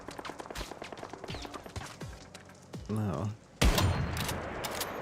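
Gunfire in the video game Once Human: bursts of rapid shots start as a faint distant crackle and build to loud close volleys near the end, under occasional talk.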